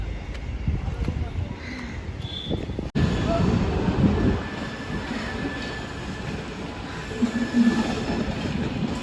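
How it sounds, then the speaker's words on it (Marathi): A train rolls along a railway line near a new bridge by a Mumbai market, giving a steady loud rumble with wheel clatter and faint squeal, while people talk nearby. "ट्रेन आलेली आहे, चाललेली आहे कुठेतरी."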